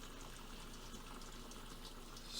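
Maple syrup in its final boil: a steady, faint bubbling hiss with no distinct pops, continuous and quiet throughout.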